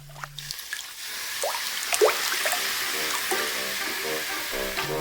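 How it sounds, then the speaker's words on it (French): Cooking water poured generously over peppers in a pan, starting after a brief low tone with gentle splashing, dripping and soft sizzling bubbles that continue steadily to the end, close and quiet. "Arrosez abondamment à l'eau de cuisson"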